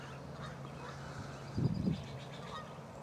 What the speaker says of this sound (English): You got something to say, Mr. Goose?